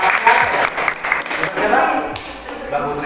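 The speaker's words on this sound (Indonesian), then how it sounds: "Tepuk tangan dulu Mbak." A small group claps in a classroom counselling session after a student's rap song, a loose, uneven patter of hands at close range with scattered sharper claps.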